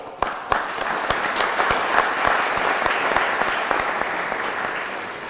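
An audience at a lecture event by Indian students in Göttingen applauds the organizing team, a steady wash of many hands clapping close by, with a few sharper individual claps standing out, continuous for several seconds.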